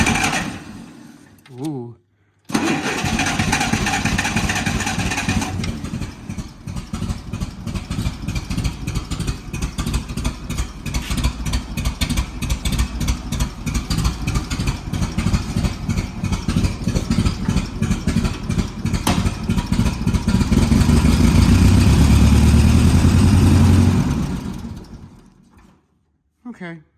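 A Toyota Hilux truck engine turns over after a short pause and settles into a loud, rough, rapidly pulsing idle that holds steady before cutting off near the end, with a brief exclamation at the start.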